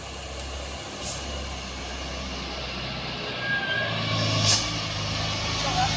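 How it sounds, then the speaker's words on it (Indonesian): An Isuzu diesel truck, heavily loaded, climbs the Kedabuan incline, giving a low steady engine drone with a brief air-brake hiss, moderately distant under general road ambience. "Unit truk Isuzu"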